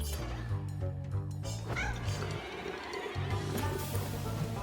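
Cats meow in a video game, repeated loud, drawn-out cries layered over game music and sound effects, with a voice talking alongside.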